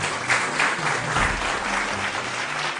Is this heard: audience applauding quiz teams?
yes